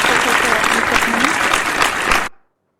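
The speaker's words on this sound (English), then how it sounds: "Please give applause." Audience applause at a professor's inauguration ceremony, a dense steady wash of clapping hands for about two seconds before stopping abruptly into silence.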